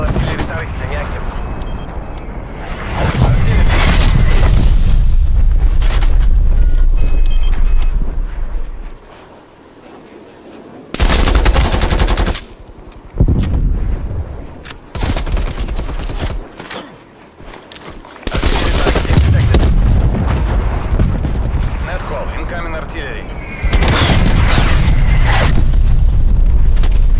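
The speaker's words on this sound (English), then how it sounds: "Hostile artillery targeting active." Artillery explosions and gunfire in Call of Duty Black Ops Cold War multiplayer: loud, heavy booms and bursts of shooting in repeated dense waves, with short quieter gaps between barrages and a voice talking over parts of it.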